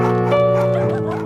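Dogs bark and yelp loudly and close by in a short, continuous burst of overlapping calls.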